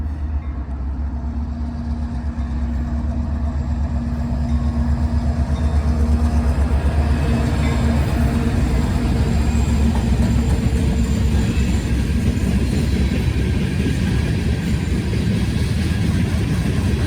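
Freight train led by three locomotives rumbles past at a railfanning spot in Muncie, a loud continuous low engine drone with steady wheel and car rattle building slightly over time.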